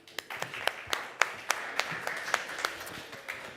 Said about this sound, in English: So please give a round of applause to Fig, and welcome to the stage